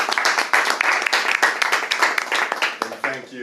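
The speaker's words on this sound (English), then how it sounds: "So, quick round of applause for Gary." Audience applause at a business networking talk: a dense burst of clapping from a room of people, fairly close and loud, that thins out near the end as a voice starts to speak.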